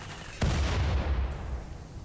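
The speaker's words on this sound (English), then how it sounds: "Just a random mass explosion?" Grenades and other explosions going off in the video game RimWorld: a sudden sharp blast followed by a rumbling, crackling tail of further bursts that slowly fades, with no talking.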